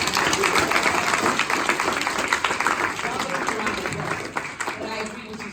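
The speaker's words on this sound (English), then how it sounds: "Y'all give them a round of applause." An audience at a gathering about African Americans returning to Africa applauds with a thick, sustained round of clapping that tapers slightly toward the end, with faint voices mixed in.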